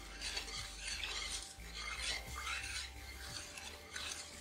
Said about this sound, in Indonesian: Kemudian ini kita aduk hingga tercampur rata